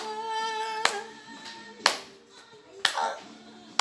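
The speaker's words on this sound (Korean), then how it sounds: "당신께 박수 쳐" Four sharp single hand claps ring out alone about a second apart, clear and near, over a faint sustained musical tone.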